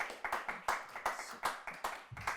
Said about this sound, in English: let's give Dr. Orlandi another round of applause